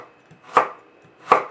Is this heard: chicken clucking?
no